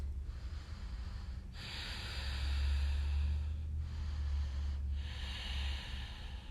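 Long, slow breaths drawn and released during a yoga flow, close and soft, with a few airy swells and no speech.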